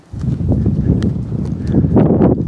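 A small horse's hooves clip-clop through a round pen as she walks forward at a steady pace, with close, moderately loud footfalls and some rustling.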